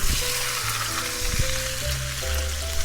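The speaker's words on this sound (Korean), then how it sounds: "고기가 막 익는 소리가 들리죠?" Bacon and a 10 g knob of butter sizzling and frying in a stock pot for a coq au vin stew, a steady close crackle with occasional stirring clinks and no talk.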